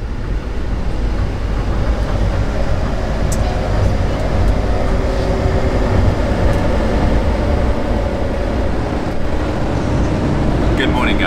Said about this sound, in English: Loving this train journey so far